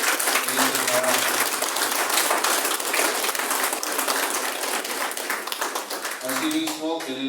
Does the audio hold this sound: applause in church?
yes